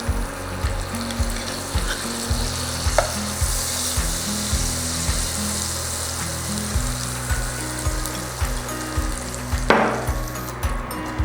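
Oil and butter sizzle steadily in a hot pan for butter chicken, a loud continuous crackling fry with a few brief clinks and stirring sounds over it.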